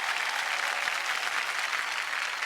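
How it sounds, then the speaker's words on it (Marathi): Sustained, dense applause from a studio audience at a Marathi TV game show, steady and loud throughout with no talk over it. "जोरदार टाळ्या."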